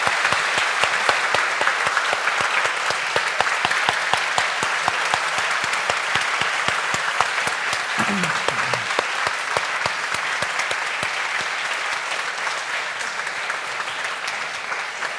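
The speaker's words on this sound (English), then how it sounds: "hopefully you will join me in giving Dr. Li a huge round of applause" Sustained applause from an audience following a Cambridge Union talk, dense, even clapping that fills the hall loudly and steadily for the full length, with no speech over it.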